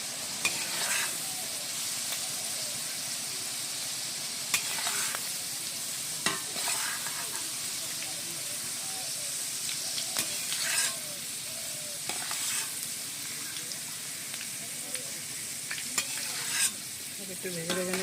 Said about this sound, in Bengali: একটু ভেজে ভেজে নেব,